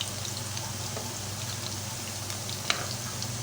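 Pumpkin kofta balls fry in hot oil, giving a steady, even sizzle and crackle that holds at one level throughout, with one brief sharp pop near the end and no voices.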